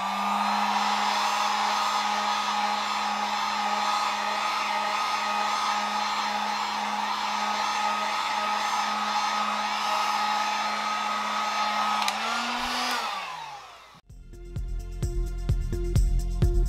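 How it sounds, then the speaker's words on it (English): A heat gun blows hot air over an alcohol-laced fluid acrylic pour painting, a steady close whirring rush with a low motor hum that winds down and cuts off near the end, followed by faint handling clatter. "Again, we're going to use our heat gun."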